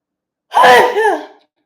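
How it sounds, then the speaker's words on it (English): A single sharp sneeze, close and loud, bursting out after a brief quiet moment. "about to sneeze"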